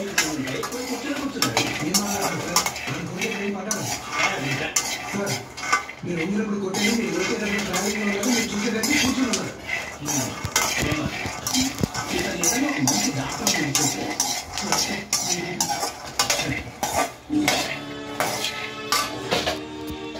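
Roasted peanuts are scraped and tipped from a pan onto a plate, producing repeated clinks, scrapes and rattles of metal and nuts, fairly close, with a voice speaking intermittently underneath.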